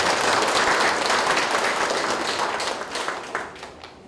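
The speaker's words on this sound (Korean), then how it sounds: "큰 박수 좀 부탁드립니다." Audience applause at a restoration launch ceremony in Paju, a dense wash of clapping that holds strong and then slowly fades out.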